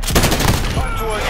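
Loud, close gunfire in the Warzone video game, a quick burst of several cracking shots packed into little more than a second.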